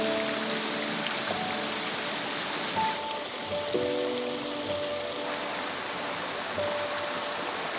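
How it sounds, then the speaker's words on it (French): A small mountain stream in the Alps rushes in a steady, broad wash with wind, continuous and moderately loud, under faint sustained tones. "Comme unique bruit, la douce mélodie du vent et des petits ruisseaux traversés"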